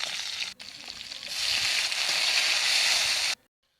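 Green chili and chopped onion hit hot oil for a spinach dish, giving a loud, close sizzle that briefly drops, then builds into a steady hiss before cutting off abruptly near the end.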